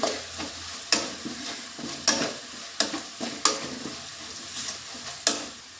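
Egg masala with pepper powder frying in a pan, a spatula scraping in regular strokes roughly every second over a steady sizzle, close and moderately loud.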